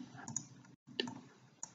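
Quiet computer mouse clicks while working in VCarve Pro design software, a few sharp close clicks in quick succession with a short silent gap between them.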